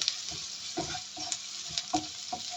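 Onions saute in an oiled pan, sizzling softly beneath a spatula that scrapes and knocks in irregular strokes, heard up close with no talking.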